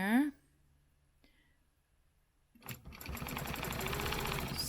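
Sewing machine stitching a stencil line: a steady rapid mechanical whir that starts after a near-silent pause and runs continuously to the end, close and clear, after a brief voice at the start.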